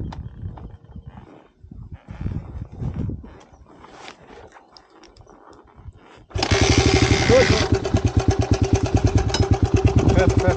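After scattered voices and handling noises, a cold motorcycle engine fires up suddenly and settles into a loud, fast, rhythmic idle that carries on steadily.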